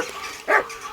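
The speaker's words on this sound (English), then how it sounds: "Good dog, Max" A single short dog bark from a video game set in medieval Bohemia, Kingdom Come Deliverance 2, rising briefly over a steady ambient background at moderate loudness.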